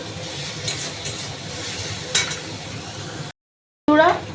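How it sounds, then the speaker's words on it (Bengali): Spice paste of red chilli powder, turmeric and salt sizzles and hisses in a pan, with a few clinks of a stirring spoon, then a short pause before a louder burst of frying. "তো বন্ধুরা ভালো করে আমি মশলাটা কষিয়ে নেব।"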